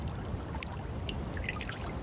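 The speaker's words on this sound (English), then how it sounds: "Dripping water measures the fleeting season, the sound of summer ticking away" Meltwater dripping on Arctic sea ice in early summer, scattered faint drops and small trickles falling irregularly against a quiet background hiss.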